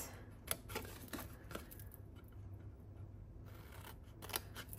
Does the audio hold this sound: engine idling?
no